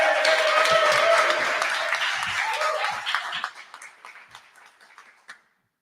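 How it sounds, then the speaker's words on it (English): An audience applauds after a conversation at a panel event on Afro-Latinx institutions, loud dense clapping that thins out and fades to scattered claps before stopping. "So let's give him one more round of applause"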